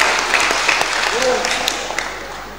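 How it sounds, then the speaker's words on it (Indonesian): Applause during a plenary meeting of the Gorontalo provincial council (DPRD), brief scattered clapping from the chamber, fairly loud and fading toward the end, with a voice heard over it. "Tepuk tangan dulu kuat-kuat."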